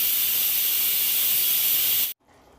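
A pressure cooker cooking chicken releases a loud, continuous, close rush of hissing steam after its whistle, which cuts off sharply near the end and leaves a faint background.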